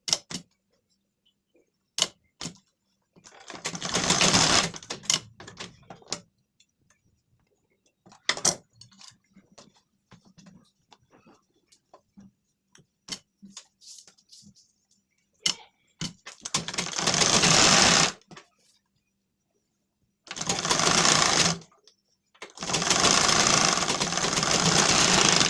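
Sewing machine stitching a lined blouse, running in several loud bursts of rapid mechanical whirring separated by quiet pauses and small clicks and taps from handling the fabric.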